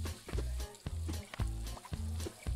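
Raw meat sizzles in a pan in the Overcooked cooking game, a steady hiss running beneath repeated bursts of chopping and kitchen clatter, with rhythmic thuds at the low end.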